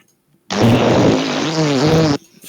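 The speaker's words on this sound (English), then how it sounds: "like playing fart sounds" A fart sound effect played back on a podcast, one sustained buzzy blast of about a second and a half, loud and close, with a wavering pitch that dips and rises before cutting off abruptly.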